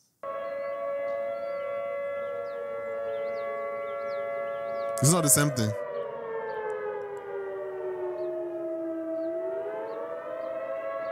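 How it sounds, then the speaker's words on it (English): A civil defense tornado siren sounds its attack tone: a loud, steady wail that rises and falls in pitch across the whole clip, with a brief burst of noise partway through and a person speaking over it near the end. "And then there's the attack tone, which is, it goes up and down, back and forth."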